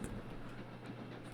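Steady low rumble of a train rolling on rails at night, with a constant hum and faint rhythmic clatter, close and continuous with no talk.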